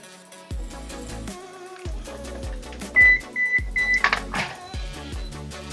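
An oven chiming as preheating finishes, a short run of electronic beeps partway through, set against rhythmic background music with no talking.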